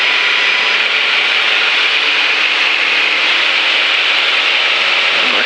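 Inside the cockpit of a Beech light aircraft, registration N6664N, the engine roars loud and steady as power comes back in for stall recovery, a constant droning whine with no voices over it.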